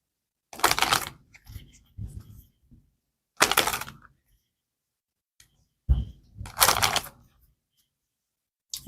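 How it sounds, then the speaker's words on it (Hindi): Tarot deck being shuffled by hand: three or four crisp, loud riffling bursts close to the microphone, separated by short silences, with a few faint soft taps between them. "One last shuffle."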